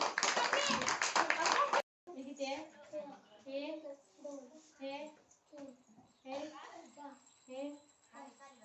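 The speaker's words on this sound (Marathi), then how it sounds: "टाळ्या वाजवा सगळ्यांनी" Children and parents at an early childhood education day event clap together in a loud, dense burst lasting under two seconds, then it stops and a voice talks for the rest.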